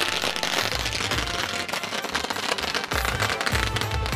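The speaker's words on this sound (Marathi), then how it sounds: "आतिषबाजी फटाक्यांची" Firecrackers and fireworks burst continuously at the final-day celebration of a village sarpanch cup tournament in Valap, 2024, a dense, loud crackling barrage with deep booming thumps underneath and no pause.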